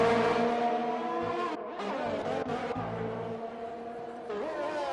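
A Red Bull and a Ferrari race car scream around the Hungary circuit in a racing game, their high engine notes overlapping and shifting pitch through gear changes and corners, with no talk.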